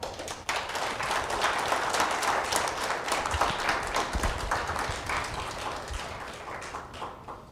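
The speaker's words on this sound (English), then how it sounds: "Round of applause for AMA." Conference audience at AMA in Ahmedabad applauds at the close of a leadership talk, a sustained, dense round of clapping that fills the hall for several seconds before easing slightly.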